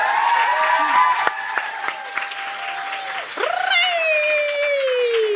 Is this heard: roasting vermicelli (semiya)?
no